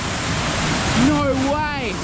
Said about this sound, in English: this is all filling up with water real quick